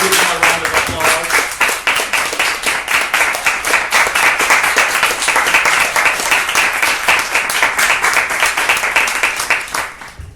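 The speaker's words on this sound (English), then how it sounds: "So please give them a round of applause." A lecture audience applauds steadily and loudly for about ten seconds, the dense clapping fading slightly at the very end.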